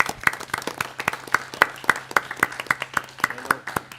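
Applause from a village board meeting audience, a modest group clapping in an uneven rhythm with distinct individual claps standing out, fairly close and steady for several seconds.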